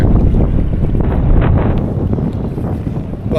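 Strong wind buffeting the microphone on the River Tamar near the Tamar Bridge, a loud continuous roaring rumble that never lets up, with possible water noise beneath it and no talking.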